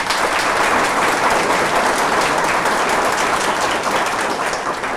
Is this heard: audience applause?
yes